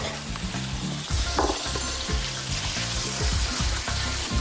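Vegetables sauté in hot clarified butter, a busy close sizzle with repeated scraping and stirring knocks in an uneven rhythm.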